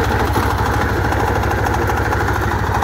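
An ACI 28 plough tilling a dry vegetable field, its engine throbbing in a steady fast low pulse with the blades churning beneath, loud and close without any speech.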